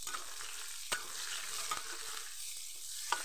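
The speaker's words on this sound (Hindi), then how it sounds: "ये सारे प्याज मैंने डाल दिया है इसमें और अच्छी तरह से इसे चला लेती हूँ" Onions frying in a pan give a quiet, steady sizzle, broken by a few sharp spatula taps and scrapes as they are stirred, close by and without any talking.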